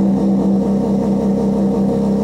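Car engine on a Haltech ECU at cold start, idle flaring high to around 2200 RPM, a loud steady close-up drone with a strong low hum and no voices.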